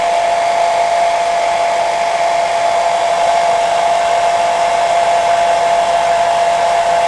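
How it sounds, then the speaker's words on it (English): Hairdryer on a low setting blowing warm air over PLA model terrain, a steady, close, continuous whir with an even tone, running alone without talk. "hairdryer. On a low setting, so you're not blowing all of it."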